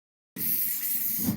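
A spray bursts into a steady, close hiss onto a skillet set up for outdoor grilling on a rainy day, sustained for about a second with no voices.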